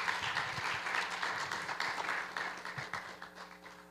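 An audience applauds steadily for about four seconds after a presentation on industrial parks and free zones at a conference, the dense clapping close and continuous, slowly thinning toward the end, with no one talking over it.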